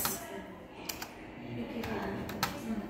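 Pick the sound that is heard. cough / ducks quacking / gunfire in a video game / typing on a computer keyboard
typing on a computer keyboard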